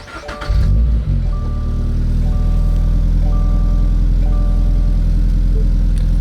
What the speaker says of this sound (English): Let's turn on the vehicle real quick.